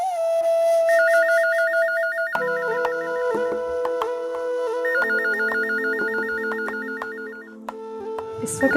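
Mobile phone ringtone playing a looping electronic melody, loud and close, changing phrase partway through and cut off abruptly at the end.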